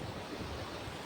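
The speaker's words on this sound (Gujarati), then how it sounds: "અમારા ગામમાં પૂર નીકળી ગયું છે" Floodwater rushes over a village dam in a steady, dense roar mixed with wind buffeting. It is loud and continuous for a brief moment, with no voices.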